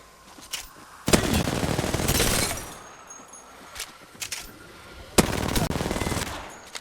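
Automatic weapons fire in the video game Apex Legends comes in loud, close rapid bursts, with a couple of long sprays and a few short pops between them.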